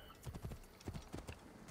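Hooves of a galloping horse in the game Assassin's Creed Origins thud in a quick, repeating clip-clop rhythm, several paired beats close and fairly soft, with no talk over them.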